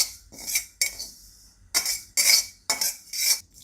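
Cumin seeds roasting in a kadai while a metal spoon stirs and scrapes them: several sharp scraping strokes and clinks in uneven bursts, close and fairly loud, with short pauses between.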